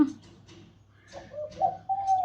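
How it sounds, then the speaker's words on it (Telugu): A pigeon coos beside a window, soft repeated low coos rising into a longer clearer call near the end, close by and alone with no talk. "అది పావురం మరుపు ఏదో అనుకోకండి పావురం మరుతుంది"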